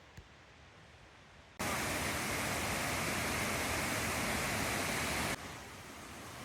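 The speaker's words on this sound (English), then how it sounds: "We then climbed to the Colwith waterfall." Colwith waterfall in the Lake District pours as a loud, steady broadband roar that starts suddenly near the beginning and drops off toward the end, leaving a quieter wash of falling water behind it.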